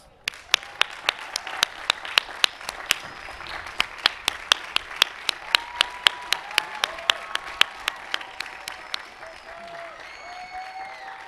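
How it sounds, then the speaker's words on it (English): A university commencement audience gives a round of applause, a dense spread of clapping with sharp individual claps standing out, heard from close by and tapering off toward the end. "please stand up or wave so we can give you a round of applause"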